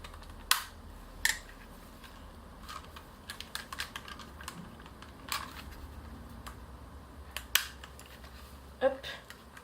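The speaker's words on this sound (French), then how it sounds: "pour démonter on va enlever le petit clip qui est ici" Small clip being pried off a KWC Sig Sauer airsoft pistol during disassembly, heard as a few sharp plastic clicks and taps spread over a quiet room tone, close to the microphone.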